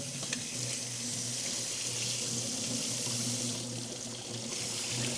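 Tap water runs steadily over a stainless steel juicer housing at a kitchen sink, a continuous broadband splashing rush that stays even and fairly close throughout, with no voices.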